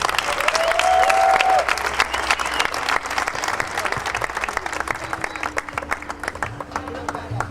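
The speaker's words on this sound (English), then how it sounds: "I think we need to give him a huge round of applause" A room full of people applauding, steady clapping that goes on for several seconds and slowly thins out, with a few voices mixed in.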